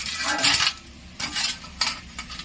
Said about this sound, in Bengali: এটা এইভাবে গ্রেট করতে হবে।